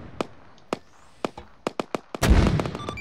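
Mortar rounds fire in Arma 3, a string of about nine sharp separate thumps spaced irregularly, then a louder, longer blast with rumbling debris at the end.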